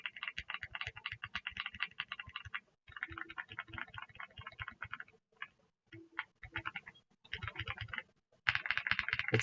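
Mechanical keyboard with HMX switches and new keycaps, typed on in fast bursts of close, clicky keystrokes broken by short pauses, with no voices.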